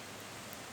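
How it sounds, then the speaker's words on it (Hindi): Steady broadband hiss of heavy, persistent rain falling outdoors on a cold day, continuous and fairly close, with no voices over it. "कल शाम की इतनी ज़ोरों से बारिश लगी हुई है कि अभी तक भी ये रुकने का नाम नहीं ले रही है।"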